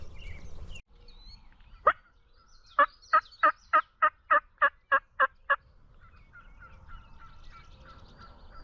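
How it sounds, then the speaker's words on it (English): A Rio Grande wild turkey hen calls outdoors with one sharp note followed by a steady series of about ten evenly spaced yelps, clear and fairly near against quiet background. "It's a talkative hen."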